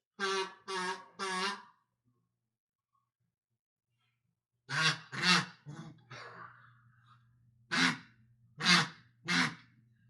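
Short buzzy kazoo toots in groups of three, separated by silence, with a brief breathy hum in the middle; close and fairly loud.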